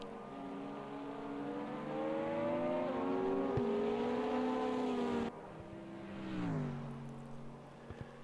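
Race cars at Le Mans in the sim-racing game Automobilista 2, with a Porsche among them, engines droning loudly and continuously, pitch climbing through gears then dropping and rising again as the pack runs close together.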